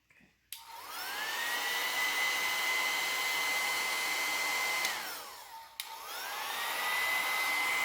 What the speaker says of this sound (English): they do take just a little bit longer to dry with the blow dryer than the regular paste